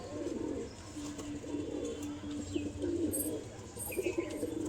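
Pigeons in a loft coo low and continuously, with soft chirps and faint wing flutters over a quiet room background.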